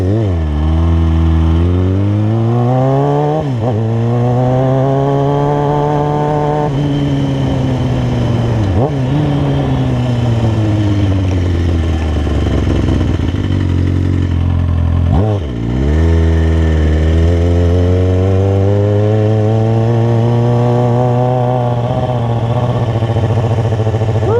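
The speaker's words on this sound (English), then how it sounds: "Oh, I love that exhaust so much." A vehicle engine with a loud aftermarket exhaust revs up and down repeatedly during a drive around town, its pitch climbing and falling in long sweeps with a sharp blip near the middle, close and continuous with no talking.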